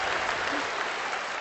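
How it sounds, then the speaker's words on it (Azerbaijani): Steady crowd applause from a studio audience on a wedding television show, dense and continuous clapping at close range for the whole moment. "Toy günüdür, əl çalır."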